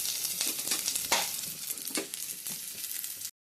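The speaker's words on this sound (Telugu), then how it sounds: "బాగా బ్రౌన్ కలర్ అయ్యే వరకు ఫ్రై చేయండి ఆనియన్స్." Onions and green chillies fry in a couple of spoons of oil for a chicken curry, a steady close sizzle with scraping stir strokes breaking through, continuous for about three seconds before cutting off abruptly.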